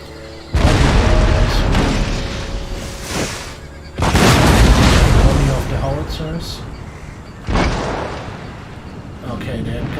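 Mortar shells explode in Empire: Total War, a series of loud, booming blasts arriving in three or four big bursts with rumbling tails, each rolling into battlefield noise.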